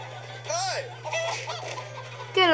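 Chickens clucking in the video game Minecraft: Story Mode, a few quick warbling clucks over a steady low game hum, the last one louder and closer, with someone talking between them.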